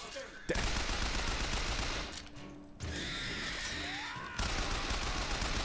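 Bursts of gunfire in the video game Bioshock Infinite: rapid, loud volleys that stop briefly midway, then resume at full intensity.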